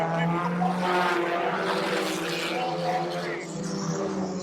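Stock cars roar around a short oval after the green flag, engines droning loudly together with tyre squeal and a field of cars passing close.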